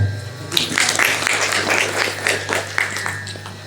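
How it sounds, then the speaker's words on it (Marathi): Audience clapping at a Ramdasi kirtan, a loose patter of hands that starts after a moment and carries on at moderate volume over a low steady hum. "टाळ्या वाजवा."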